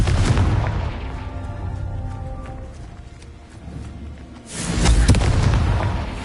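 A Confringo spell explosion in Hogwarts Legacy, heard as a loud, booming blast that rumbles and fades, then a second heavy burst near the end.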